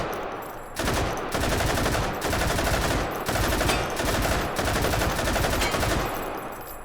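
Sustained bursts of automatic fire from an RPD machine gun in the VR game Hot Dogs, Horseshoes and Hand Grenades, loud and close, with brief pauses between long strings of rapid shots.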